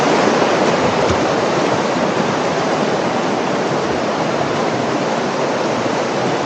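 A strong river current rushes through Yufugawa Canyon in Japan, a dense and continuous roar of water that stays loud and unbroken throughout, with no voices.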